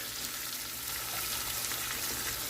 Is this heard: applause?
no